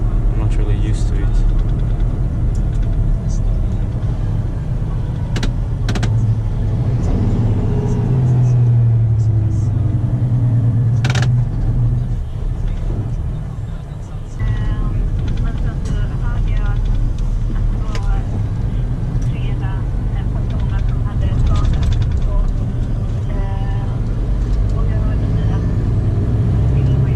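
Scania G450 truck with trailer driving on a road near southern Stockholm, a loud, steady low engine drone and road rumble from inside the cab that holds throughout, with brief hisses and clicks over it.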